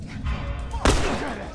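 A single gunshot in The Last of Us video game cracks out sharply partway through, loud and abrupt over a low game background rumble.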